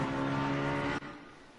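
A race car in a sim racing game at Mount Panorama roars steadily along the start-finish straight, then the engine note cuts off abruptly and leaves a quieter residual hum.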